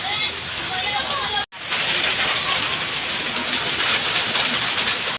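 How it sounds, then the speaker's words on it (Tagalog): Heavy rain falls in a steady, dense hiss that is loud and close. It cuts out for a moment before resuming just as strongly. "Inaabot kami ng ulan, guys."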